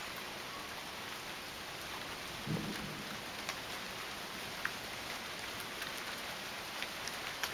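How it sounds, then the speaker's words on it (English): Rain falls steadily on a summer evening on Salt Spring Island, Canada, as a thunderstorm builds, making a continuous even hiss with a brief low rumble early on and scattered sharper drops. "It's definitely raining now."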